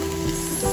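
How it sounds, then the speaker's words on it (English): A brief close-up sizzle and bubbling of thick ash gourd halwa cooking in a pan, crackling steadily for under a second. "listen to that sizzling bubble"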